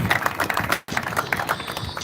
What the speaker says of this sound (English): let's go ahead and give claps and all that for the fighters